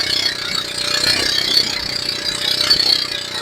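A fishing boat's motor runs steadily at sea, a loud continuous droning rumble with a rattling edge and no voices.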